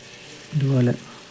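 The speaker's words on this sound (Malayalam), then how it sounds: "ഈ ചിക്കൻ നമുക്കൊന്ന് വറുത്തെടുക്കാം" Chicken pieces frying in hot oil for a Kerala-style chicken curry, a steady close sizzle with a brief voice rising over it midway.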